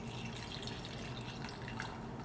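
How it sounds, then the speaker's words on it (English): Cold brew coffee poured over the top of a drink in a glass at home, a faint steady liquid trickle and splash running continuously for a couple of seconds. "So then I'm gonna pour my cold brew over the top."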